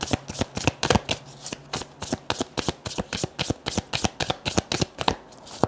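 Tarot cards are shuffled by hand in a quick, even riffle, some twenty sharp snapping slaps in rhythmic succession, close and crisp with no talk.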